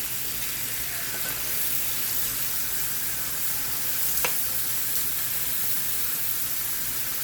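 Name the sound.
food sizzling while frying in a pan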